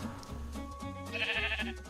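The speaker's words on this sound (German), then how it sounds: "Aber du bist ein Schaf, egal." A sheep in the Minecraft video game bleats in a few short, wavering calls, fairly close and clear over a low game background, with no talking.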